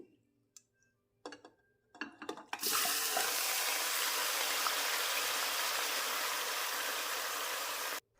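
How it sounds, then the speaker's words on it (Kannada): Chicken pieces dropped into hot oil in a pressure cooker on a stove sizzle loudly and steadily after a few clattering pieces at the start, a close, continuous frying hiss with no talking. "ಇದನ್ನು ಎಣ್ಣೆಯಲ್ಲೇ ಹುರ್ಕೋಬೇಕು"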